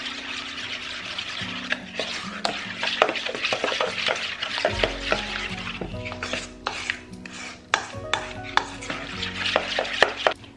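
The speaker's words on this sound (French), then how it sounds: "Je vais mélanger." Pizza dough with a little olive oil stirred in a bowl, the spoon giving repeated close scraping and clinking strokes with a low hum underneath.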